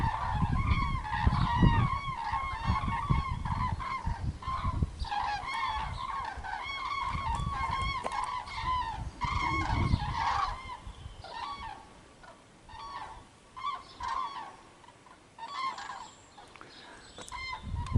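A flock of cranes calls overhead in the February countryside around Azay-le-Ferron, France. Layered, honking, trumpet-like cries overlap continuously and grow sparser and more scattered toward the end.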